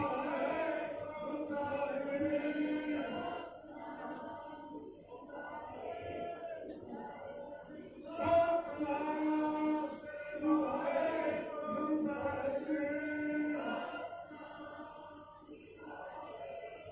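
A gurdwara congregation in Amritsar chants Satnam Waheguru together, many voices in a steady, droning unison that swells and repeats in long phrases, filling the space continuously at moderate loudness.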